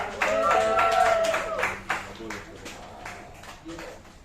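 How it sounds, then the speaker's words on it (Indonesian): A church youth gathering claps for a participant named Rachel, a burst of many hands in rough unison that fades over a few seconds, with voices speaking over it. "Kasih tepuk tangannya semangat buat Rachel."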